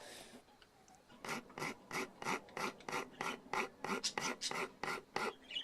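A Surform rasp shapes the wooden body of a cheap bass guitar kit with around a dozen steady back-and-forth strokes, each a dry, coarse scraping rasp. The filing starts after a brief quiet moment and stays close but fairly soft.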